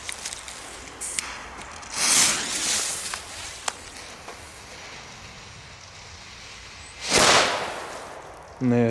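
A retro Xplode Böller D firecracker goes off outdoors with a sharp crack and burst, then a second loud bang follows a few seconds later amid faint rustling.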